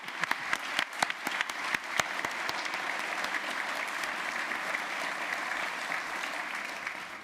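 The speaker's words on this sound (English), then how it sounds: "Why don't you continue that round of applause for Russell Shorto one more time?" Continued applause from an evening lecture audience at the John Adams Institute, with a few sharp, close individual claps at the start before settling into an even, moderately faint roar of many hands.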